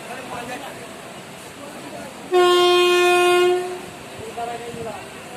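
A loud, sustained train horn blares for about a second over a steady rumbling background heard from aboard the train, then fades back into the ambient hum.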